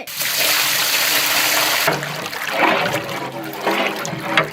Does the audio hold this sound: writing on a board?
no